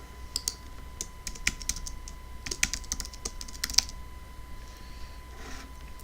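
Typing on a computer keyboard while setting up an AWS SageMaker notebook instance, with quick irregular keystrokes and clicks, quiet and steady, no talk.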